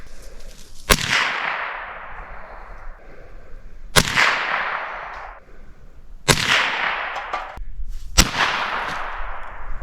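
Rifle shots fired outdoors during target shooting, four loud sharp cracks spaced a few seconds apart, each with a long rolling echo trailing off.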